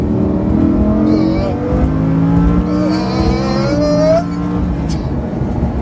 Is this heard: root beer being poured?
no